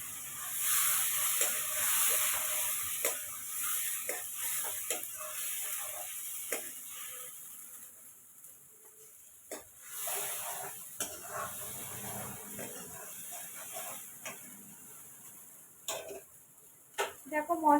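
A paste of ginger, garlic and tomato with green chillies fries in a pan, giving a soft steady sizzle and hiss with scattered ticks and scraping clicks, faint and close.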